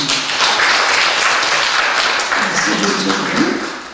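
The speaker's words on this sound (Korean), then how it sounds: "우리 사천에서 오신 분들 감사의 박수 한번 하겠습니다." A church congregation at a Sunday service gives a round of applause of thanks, with sustained, fairly loud clapping from many hands and a murmur of voices near the end.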